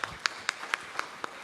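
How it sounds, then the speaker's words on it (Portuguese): A church congregation claps during a service, giving six sharp, evenly spaced claps at a steady rhythm, each crisp and distinct against a quiet room. "Aplauda o Senhor Jesus"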